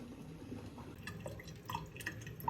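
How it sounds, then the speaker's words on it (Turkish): Cold water runs over frozen stuffed vine leaves being rinsed, giving quiet trickling with scattered drips and light splashes that grow slightly busier toward the end. "Şimdi üzerine soğuk su koyup yıkayacağız."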